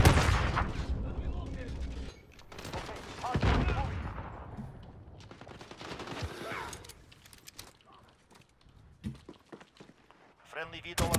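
Gunfire from the video game Call of Duty: Modern Warfare (2019) in a multiplayer hardpoint match, with loud bursts of shots and impacts early on, then scattered shots further off, while players talk over the action.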